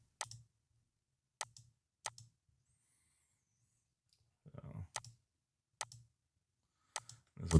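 Sharp computer mouse clicks come as isolated single and double taps spaced a second or so apart in a quiet room, with a soft brief rustle between them.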